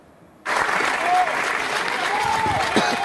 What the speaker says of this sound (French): Ce sont les fameux applaudissements des collaborateurs.